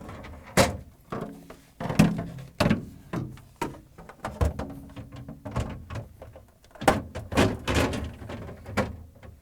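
Refrigerator crisper drawers of a GE fridge being set onto their rails and slid in, with a run of close plastic thunks, scrapes and knocks in irregular bursts, no talking.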